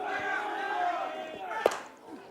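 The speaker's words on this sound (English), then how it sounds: "This has got the crowd going." Ramblers supporters cheering and shouting at a men's club softball grand final, a steady crowd roar with a sharp clap or bang near the end, fading slightly.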